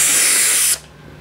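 A voice imitates a spray bottle with a steady, loud hissing spray held for under a second before cutting off abruptly into quiet.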